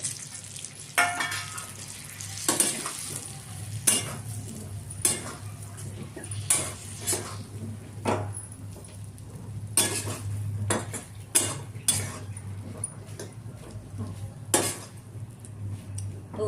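Regu fruits are stirred in a pan with chilli powder, turmeric and salt, giving repeated sharp metallic scrapes and clinks of a spoon against the pan over a low, steady background hum, with no voices.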